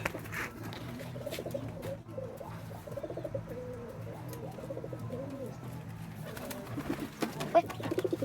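Pigeons in a coop give low, repeated cooing calls throughout, with soft fluttering and scuffling and a few sharp knocks near the end.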